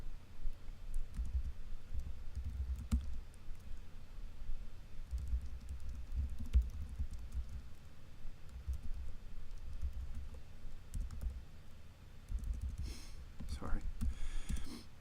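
Soft, uneven keystrokes tap away on a computer keyboard with low rumbling background noise and faint breathy sounds, close and fairly quiet.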